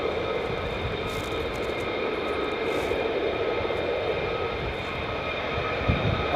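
F-15 Strike Eagle or F-35 Lightning II military jet taxiing at RAF Lakenheath: a steady, moderately loud engine whine and rumble with a constant high tone, sustained evenly for several seconds.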